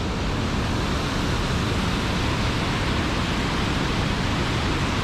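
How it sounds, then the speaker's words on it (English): A waterfall in a Scottish river valley, plunging in two drops, gives a loud, steady broadband roar that runs unbroken and close throughout. "It's almost like this waterfall comes down, drops, and then it drops a second time over into that valley"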